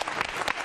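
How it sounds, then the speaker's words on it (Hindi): Audience applause at a Ramadan-themed quiz show, a short burst of dense clapping from a crowd, steady and fairly loud throughout. "तालियां जोरों से बजाइए कुणाल के लिए।"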